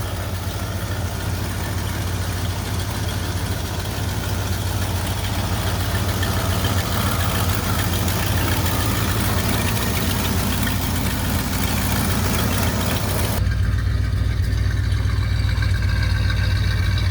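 A 1977 Ford F250 pickup idles while warming up, a loud, steady low rumble that runs unbroken and closely miked, with a slight change in tone near the end.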